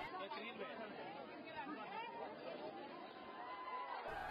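A dense crowd of visitors chatters among the sweet, toy and jewelry stalls at the Sankari fair in Udhampur, a continuous overlapping babble of many voices at a moderate distance.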